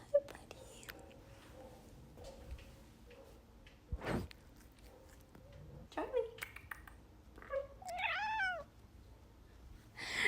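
A foster kitten gives several high, short meows spread through a quiet indoor scene, along with soft handling noises and a thump.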